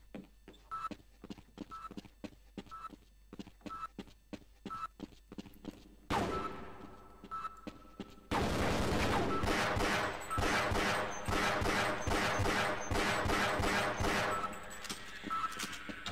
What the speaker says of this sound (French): la mitrailleuse dégomme tout ce qui... Ow, tout ce qui bouge